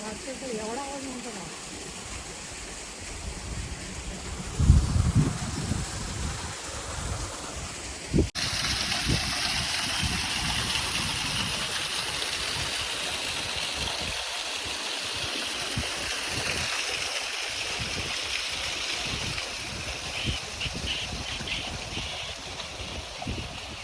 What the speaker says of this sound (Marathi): इथे one of the biggest waterfall असतो